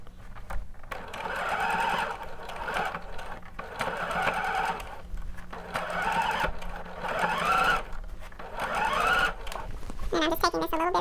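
A sewing machine top stitches a bodice seam on shorts or pants in steady bursts of running, separated by short pauses, close and fairly loud, with a few brief handling sounds at the end.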